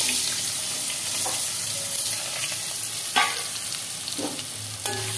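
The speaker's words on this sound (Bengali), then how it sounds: "এই তেলটার মধ্যে এবার আমি আলুগুলো ভেজে নেব।" Potatoes fry in oil left over from frying fish heads, sizzling steadily at close range while a spatula stirs and scrapes the pan, with a couple of louder clanks and no speech.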